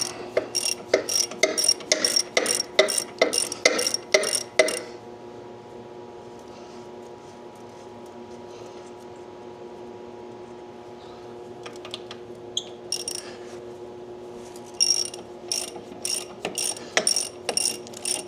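Ratchet wrench working on bolts of a John Deere A tractor: bursts of quick, close clicking, then a quiet stretch with faint handling noises, then more rapid ratcheting.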